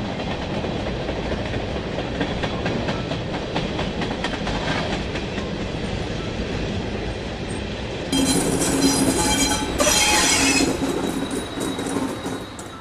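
A train running on rails, a loud continuous rumble with rapid clickety-clack of wheels over track joints, turning brighter and more metallic with a squealing edge toward the end, close and steady, no voices.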